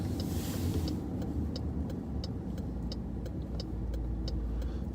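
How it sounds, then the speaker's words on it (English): A car passes on a road, its broad engine and tire rumble steady and fairly loud, likely heard from a patrol vehicle, with faint rhythmic ticking above it and no talking. "let's go see what that car was that just went by here"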